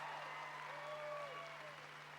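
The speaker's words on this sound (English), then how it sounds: "Give him a big round of applause." Steady applause from a crowd at a political speech in Quincy, a continuous wash of clapping with a faint voice over it.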